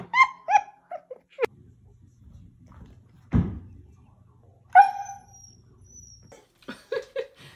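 A dog gives several short, sharp barks and yelps at the start, then a thump and a high whine, with scattered barks again near the end and a low hum between.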